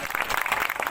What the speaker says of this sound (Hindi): ताली बजा दो बस